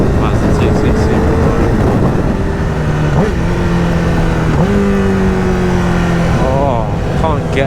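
2011 Honda CBR1000RR Fireblade 1000cc motorcycle engine under way on a dual carriageway toward a tunnel, loud and close, with repeated blipped rev-matching downshifts rising and falling over constant wind roar.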